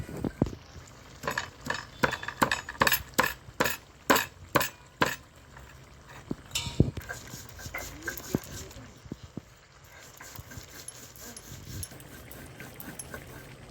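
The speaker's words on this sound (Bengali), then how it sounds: "এবার গরম মশলাটা বেটে নেব।" Garam masala spices are pounded and ground by hand for a jackfruit dish, with a run of sharp, rhythmic knocks followed by quieter scraping and clatter.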